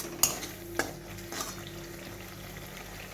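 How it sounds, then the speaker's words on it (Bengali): Fennel seeds, ginger and green chilli frying in a pan, a soft low sizzle broken by a few sharp clinks and scrapes of a spoon against the pan. "মৌরি, আদা, কাঁচা লঙ্কাটা ভাজা হয়ে গেছে।"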